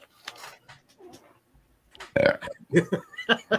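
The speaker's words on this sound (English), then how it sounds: "Excuse me, I didn't mean to burp" A loud, drawn-out burp bursts out after some quieter murmuring and breathy sounds, followed by a few short throaty vocal noises.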